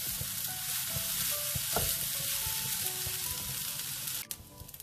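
Rice and softened vegetables for village-style fried rice with belacan frying in a hot pan, a steady close sizzle with stirring scrapes, ending with a brief clatter and quieter crackle.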